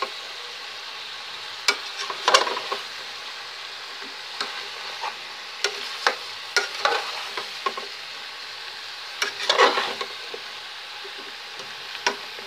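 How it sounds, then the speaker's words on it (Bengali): Zucchini stirred with spices in a sizzling pan for a zucchini curry: a soft continuous fry hiss broken by irregular scraping clatters of the spoon, a few louder bursts, close and without voices. "এবার ভালো করে মশলার সঙ্গে মিক্স করে দিব।"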